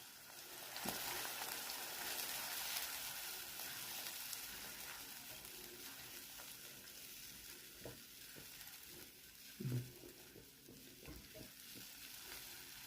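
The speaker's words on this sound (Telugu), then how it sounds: "ఈ నూనెలో బాగా వేగిపోవాలి. ఉల్లిపాయలు వేగాయి, నూనె వదిలేస్తున్నది." Onions fry in oil for a curry, a steady soft sizzle and crackle that carries on throughout, with a few faint knocks and stirs in the pan.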